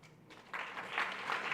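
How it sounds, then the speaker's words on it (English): An audience at a public lecture by a Deputy Minister breaks into applause, swelling from quiet into a short, steady stretch of moderate clapping. "Can you give a round of applause"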